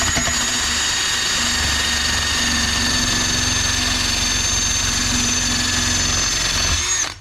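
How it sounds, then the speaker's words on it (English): A small wire wheel on a power tool scrubs crud off metal headers before TIG welding, a loud steady whirring whine running close for about seven seconds before spinning down at the end. "I got this little wire wheel on here."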